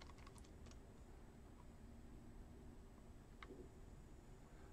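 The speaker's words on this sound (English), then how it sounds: "And I type yes." Keys tapping on a computer keyboard at a terminal prompt, a few quick clustered keystrokes near the start and one more a few seconds later, faint over a steady room hiss.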